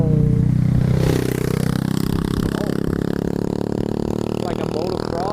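A loud scooter with a motocross-like engine roars past a rider on a Begode A5 electric unicycle, a harsh buzzing rasp that stays strong and close for several seconds with no talk over it.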